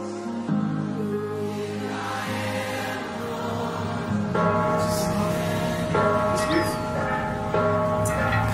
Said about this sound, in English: And listen to all these bells.